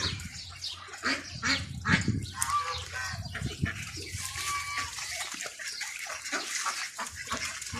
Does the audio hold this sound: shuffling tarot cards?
no